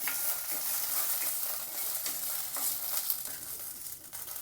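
Chillies sizzle and crackle in hot oil, a steady bright frying hiss with occasional stirring scrapes.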